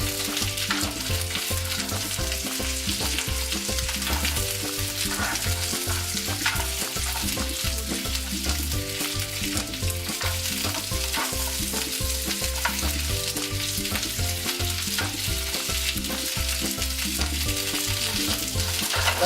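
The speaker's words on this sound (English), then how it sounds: "Let that saute for a few minutes." Asparagus sautéing in butter in a pan, a loud, continuous sizzle and crackle with occasional stirring scrapes throughout, no voices.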